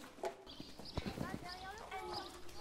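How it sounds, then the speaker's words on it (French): Hooves of horses clip-clop in quick rhythmic beats during a riding lesson at an equestrian centre, close and steady, while an instructor talks over them. "qui est-ce qui veut refaire un tour de galop?"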